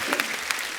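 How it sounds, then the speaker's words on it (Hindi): Audience applause at a film-star show, a brief burst of clapping from a crowd, moderately loud and steady with a few sharper claps standing out. "इनके लिए जोरदार ताली हो जाए यार"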